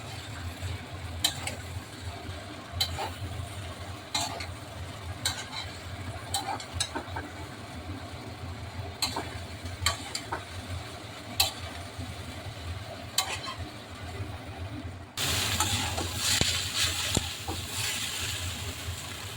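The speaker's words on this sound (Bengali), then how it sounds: "এখন আমি এখানে পনিরটা দিয়ে দিচ্ছি। পনিরটা দিয়ে ভালোভাবে মিশিয়ে নিচ্ছি।" A spatula stirs paneer into hakka noodles in a hot pan, with scraping taps at irregular intervals over a low steady rumble, and a louder sizzling wash swelling near the end.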